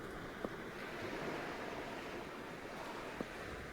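Sea waves ambience in the strategy game Age of History III, a faint, steady wash of surf noise with two soft clicks, no talk.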